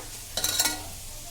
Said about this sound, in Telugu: శనగపప్పు కూడా ఒక తిప్పేసుకుందాం